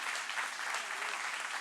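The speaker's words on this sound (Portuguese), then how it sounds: "Você pode aplaudir Jesus por isso?" A church audience applauds at a leadership gathering, a dense, steady burst of many hands clapping together for a brief moment, fairly close and without any voices over it.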